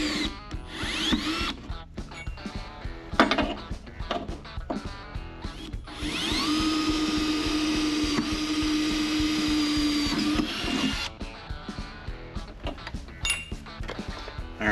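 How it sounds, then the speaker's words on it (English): A power drill bores pilot holes in a 4130 chromoly race car chassis for mounting a Kirkey race seat, whining in short bursts and then one sustained run of several seconds, close and loud. "And then we're going to work our way through the drill sizes."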